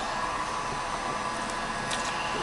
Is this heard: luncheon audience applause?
no